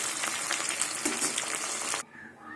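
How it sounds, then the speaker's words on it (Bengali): Banana flower pieces sizzling in hot oil, a loud, dense crackle close up that cuts off abruptly near the end, leaving a faint quiet hiss. "মোচার ফুল একদিকে ভাজা হয়ে গেছে সব মোচার ফুলগুলো উল্টিয়ে দেবো"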